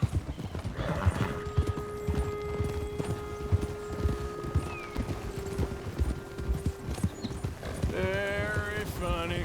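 Horse hooves clip-clopping in Red Dead Redemption II, a steady rhythmic gait running throughout under a sustained musical tone, ending with a loud neigh near the close.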